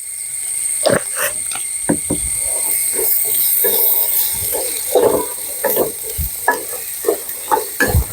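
Onions sautéing in a pan for an egg curry, with steady soft sizzling and intermittent sharp scraping and stirring clatters of a spoon against the pan, close up, no talk.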